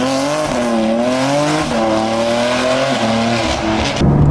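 A BMW M3/M4 with a ZF8 automatic pulls hard, its engine note rising loudly through several quick gear shifts, each upshift breaking the climbing pitch before it builds again.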